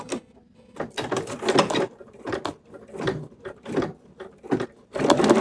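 A Bernina sewing machine stitches in short bursts, each a close mechanical whir separated by brief pauses, with no talk over it.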